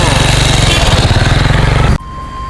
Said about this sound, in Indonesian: Ini mobil peziarah yang sudah meninggalkan lokasi ya teman-teman.